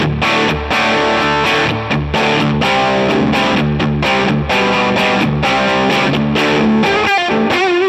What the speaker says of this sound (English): The first one is we're breaking up that preset from the Dream 65,